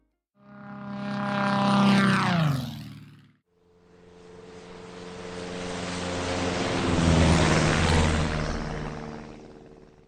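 A small sport airplane's engine runs up at takeoff, first a short rising propeller whine that cuts out, then a long building roar that swells loud and steady before easing slightly, with no talking.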